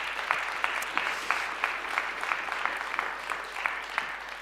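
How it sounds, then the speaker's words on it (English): Audience applause for the participants of a panel discussion on artificial intelligence in education, a steady wash of clapping at moderate distance with a few sharper individual claps standing out, lasting throughout. "please let's give a round of applause for our panel discussion participants"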